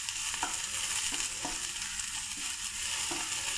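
Green beans being stir-fried in a pan with chilli powder, turmeric and pepper for Kerala mezhukkupuratti, a steady close sizzle with repeated scraping stirs of a spoon against the pan.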